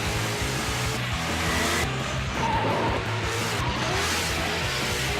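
A car is driven hard on asphalt, with a loud continuous engine roar and a harsh wash of tire noise. It sounds close and steady throughout, with no talking.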